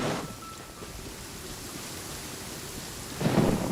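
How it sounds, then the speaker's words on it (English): Steady rain hisses throughout a Genshin Impact storm, with a deep thunder rumble swelling near the end; no talk is heard. "It always rains when I go on an adventure."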